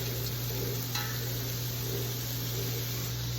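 Zuppa toscana meatballs brown in a hot pan with a loud, continuous sizzle and frying hiss, steady throughout with a faint clink near the start and no talking.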